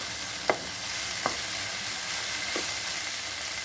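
Turmeric, chili powder and salt being stirred in a frying pan over a steady sizzle, with three distinct scrapes of the spoon against the pan spaced about a second apart.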